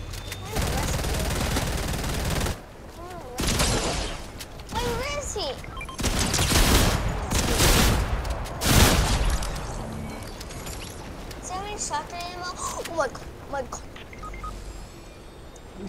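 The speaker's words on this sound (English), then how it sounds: "Someone's shooting at me though." Video game gunfire crackles in scattered bursts and single shots across a multiplayer match, loud and close, heard under and between players' ongoing talk.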